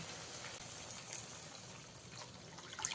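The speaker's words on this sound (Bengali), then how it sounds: "আর মেশানো হয়ে গেলে এখানে দিয়ে দেবো এবারে পরিমাণ মতন জল।" Water poured into a pan of katla fish curry masala, a steady close gush and trickle of liquid running without pause, with a few brighter splashes near the end.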